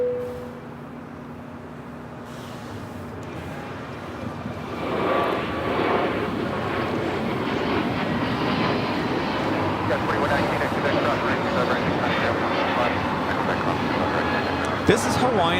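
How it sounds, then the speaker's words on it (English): An Airbus A321neo of Hawaiian Airlines takes off at LAX, its engine roar building from a low rumble into a loud, sustained broadband rush with a brief sharp click near the end; a voice talks faintly early on. "This is Hawaiian Airlines Flight 61 taking off to Kailua Kona on the A321neo."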